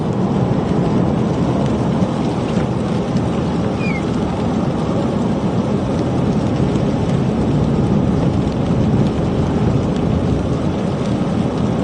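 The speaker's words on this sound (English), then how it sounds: "we still got a sleet mixture in here. I can hear it still hitting the windshield." Sleet beats on a car windshield in a Texas/Arkansas winter storm with freezing rain, making a dense, loud, unbroken hiss and patter as heard from inside the vehicle.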